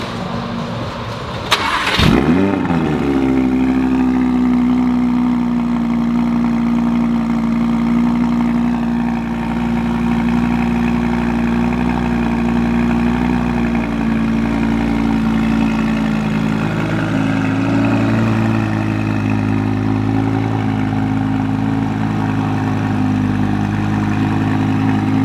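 Audi R8 V10 Plus, wrapped in Suzuka Gray, fires up with a loud push-button start and a brief rev, then settles into a steady, deep, close idle that shifts slightly lower partway through.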